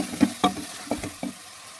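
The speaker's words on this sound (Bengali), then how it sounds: "এবার আমি ভালো করে কষাতে থাকবো এটা কিছুটা সময় নিয়ে" Potatoes with roasted cumin powder being sautéed for aloo posto, a few distinct stirring scrapes of the spatula against the pan over a soft, low sizzle.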